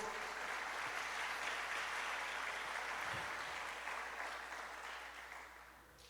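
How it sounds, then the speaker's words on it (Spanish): Congregational applause for Jesus at a church service, a broad, sustained wash of clapping and cheering that fills the room evenly and slowly fades toward the end. "Dale fuerte ese aplauso a Jesús"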